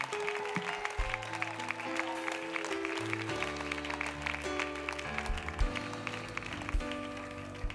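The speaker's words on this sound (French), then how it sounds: "Would you give that hand clap unto the Lord?" A church congregation claps their hands in praise during a service. The applause is dense and steady and goes on for the whole stretch, mixed with sustained music and little talk.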